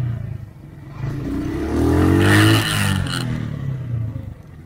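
Front brake stop on a Bristol 250 motorcycle: the engine note rises and then falls as the bike slows, with scraping, clattery noise from the tire and brake near the end, close and fairly loud.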